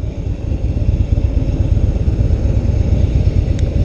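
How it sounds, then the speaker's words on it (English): A 2016 Harley-Davidson Softail Slim S rumbles steadily while being ridden, a loud, continuous low engine drone under wind, with no talk. "It's my first time riding the Softail Slim anyway, and it feels pretty awesome."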